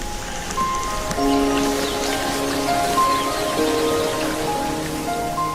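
Steady rain pattering on surfaces on Nicobar Island in the Andaman Sea, fairly loud and even, with faint tonal chirps threading through the downpour.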